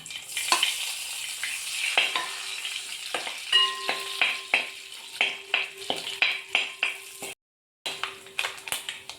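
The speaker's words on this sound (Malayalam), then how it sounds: "കടുക് പൊട്ടാൻ തുടങ്ങിയിട്ടുണ്ട് അതിലേക്ക് തേങ്ങ കൊത്ത് ഇടുകയാണ്" Coconut slices fry in oil with spluttering mustard seeds, giving a close crackling sizzle with repeated sharp pops and a steady tonal hum, and no talking.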